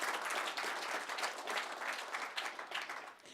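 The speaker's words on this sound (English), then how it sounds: "Let's give him a great round of applause." Audience applause at the close of a talk during a dairy farm tour, steady dense clapping from a crowd that carries on for several seconds before tapering slightly.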